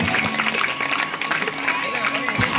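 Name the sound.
audience clapping and cheering at a sports exhibition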